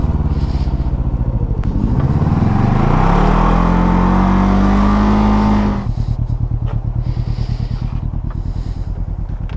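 A Can-Am Ryker 600 three-wheeled motorcycle engine revs up, its pitch sweeping upward and holding high for several seconds, then dropping back to a loud, steady throbbing idle close by.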